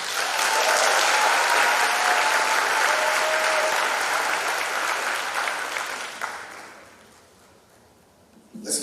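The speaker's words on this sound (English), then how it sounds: "Let's give our young queen another round of applause for that introduction" Sustained audience applause at a Class of 2021 ceremony in East Orange, loud and dense with a few faint whoops, tapering off around six seconds into near quiet before a brief closing burst.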